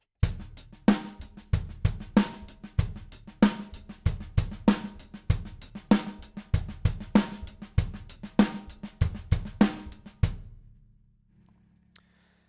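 A basic drum groove played with sticks, with ghost notes: steady, close-up kit hits in a repeating rhythm, soft ghosted strokes between louder backbeats, played alone for about ten seconds before ringing out.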